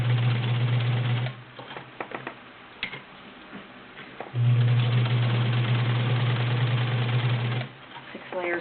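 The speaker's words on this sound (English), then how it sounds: "Do 6 layers of denim." Wards Signature UHT 276D sewing machine with a size 16 needle stitching through six layers of denim, two loud steady runs of fast mechanical whirring separated by a quieter pause with clicks and handling noise, a voice briefly heard.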